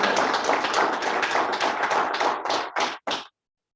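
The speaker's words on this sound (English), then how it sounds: "a round of applause" An audience claps loudly and briskly for about three seconds, the dense applause thinning into a few final isolated claps before stopping abruptly into silence.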